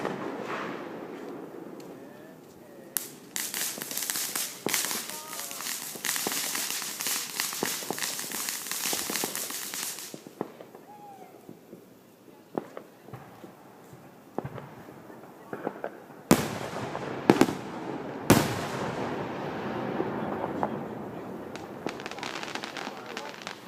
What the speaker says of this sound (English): We're checking out the fireworks here.